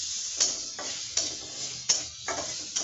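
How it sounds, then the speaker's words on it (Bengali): Onions frying in a little oil in a pan, a soft steady sizzle broken by several sharp scraping stirs of a spatula against the pan at an irregular pace, close up and quiet, with no voices. "এখন আমি পেঁয়াজটা ভেজে নিব।"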